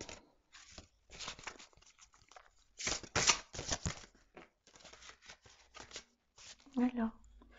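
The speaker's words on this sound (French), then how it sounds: "Et je dois tirer une carte." Oracle cards shuffled and drawn by hand, giving soft papery riffles and slides in short bursts, quiet and close, with someone talking between them.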